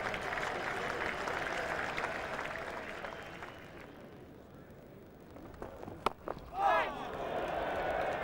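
A cricket crowd at The Oval during an England v Australia Test in 1997 applauds and cheers, a broad wash of clapping from a large distant crowd that eases off, then swells again.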